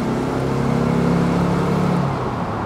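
A 1962 Porsche 356 BT6 Cabriolet with a 90 hp engine hums steadily while driving, a low, even engine drone heard close throughout.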